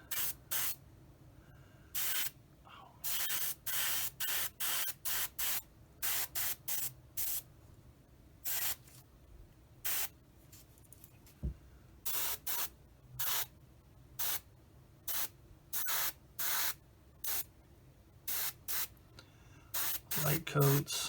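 Short bursts of clear coat spray hiss onto a 1/48 scale Airfix Spitfire Mk XII model in light layers, roughly a dozen quick pulses in a fairly regular rhythm, close and crisp with quiet gaps between.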